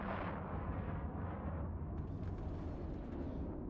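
Heavy missiles exploding in the space game EVE Online, a low rumbling blast that rolls on steadily, with a brighter crackle entering partway through, fairly quiet overall and with no voices.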